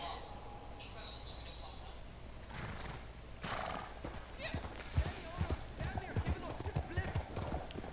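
A horse in the video game Red Dead Redemption 2 whinnies near the start, followed by rhythmic clip-clop hoofbeats that grow louder and busier, with someone talking over the game sounds.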